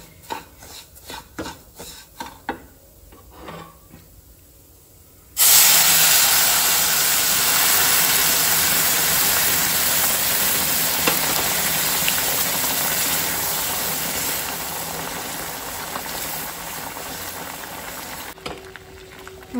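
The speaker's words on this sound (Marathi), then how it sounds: "गरम गरम उदक न्ही हांवें आतां हितून घालूंक जाय" Hot water poured into roasted semolina in a pan breaks into a loud, steady sizzling hiss that continues for many seconds and slowly softens, after a few quieter clinks and stirring sounds at the start.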